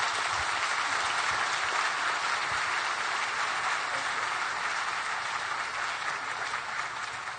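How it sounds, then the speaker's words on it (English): A symposium audience in New York gives the panelists a sustained round of applause. The clapping is steady and full, continuing evenly throughout and thinning slightly at the close. "another round of applause for our panelists"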